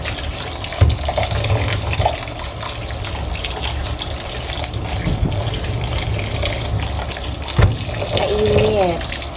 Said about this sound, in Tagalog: Kailangan hugasan siya ng malamig guys.